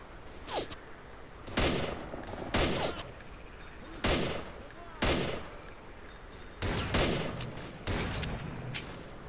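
Gunfire from S.T.A.L.K.E.R. Clear Sky: about seven separate shots or short bursts spaced a second or so apart, fairly loud over a steady ambient background with faint insect-like noise.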